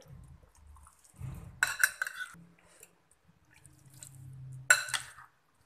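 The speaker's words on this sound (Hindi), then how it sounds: "अब हम चने और इस सारे इंग्रेडिएंट्स को मिक्स कर लेंगे और अब हम इसमें दही मिक्स कर लेंगे।" Chickpeas, yogurt and spices being mixed in a bowl for a spicy chana chaat: soft stirring and scraping, with a few bright clinks of a spoon against the bowl, close and fairly quiet.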